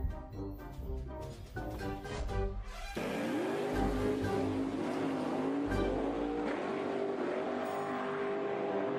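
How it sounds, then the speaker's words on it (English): A race car runs at night, its engine first chopping through rapid gear-like bursts, then settling into a loud sustained whine that rises and dips in pitch as it revs hard and pulls away. "A race car encountered a problem"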